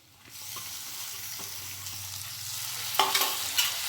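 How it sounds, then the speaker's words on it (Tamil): Citron pieces sautéing in oil in a pan for citron pickle with ginger and garlic, a soft steady sizzle that swells later, with a few stirring scrapes and clinks near the end. "அதை நல்லா எண்ணெயில் வதக்கிடணும்"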